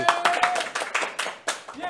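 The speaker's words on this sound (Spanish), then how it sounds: "un aplauso a mí" Several sharp, separate hand claps ring out close by, spaced irregularly across two seconds, with a voice talking and exclaiming between them.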